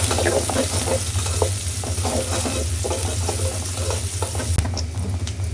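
Onions frying in oil in a pan for a Bengali bitter gourd and prawn dish, giving a steady, close sizzle with soft stirring scrapes throughout and one sharp clack near the end.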